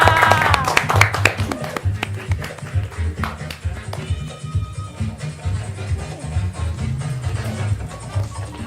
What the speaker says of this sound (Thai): เสียงปรบมือให้กับเดมิเชอร์ด้วยค่ะ